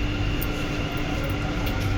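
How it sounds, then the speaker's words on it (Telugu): Steady, loud rumble and whine from inside a moving metro train, with no clear voices. "మేము ఇప్పుడు మెట్రోలో ఉన్నాం"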